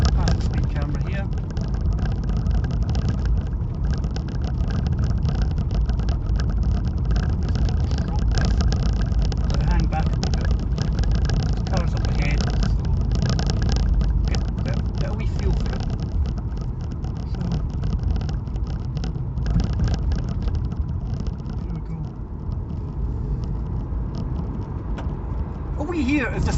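Nissan Leaf electric motor spooling up while driving, a steady, loud, continuous whir and road roar that holds throughout inside the cabin.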